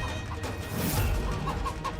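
Chickens cluck in a dense, busy layer of overlapping calls, heard as part of a TV drama scene with a full, noisy background throughout.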